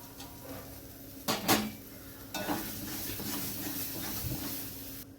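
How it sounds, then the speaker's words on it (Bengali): Sugar and chopped cashews stirred in a hot pan, a soft steady sizzle with a couple of sharp scraping bursts near the start, then continuous quiet hiss. "চিনিটা দিয়ে আবার আমি ভালোভাবে নাড়বো, যাতে চিনিটা গলে যায়।"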